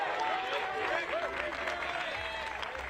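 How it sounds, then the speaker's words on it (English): Disc golf gallery at the final round of the United States Disc Golf Championship cheering and clapping for a player, a steady mid-distance crowd roar with scattered applause and shouts under a commentator's voice. "Listen to this crowd trying to come to life for Ricky Wysocki."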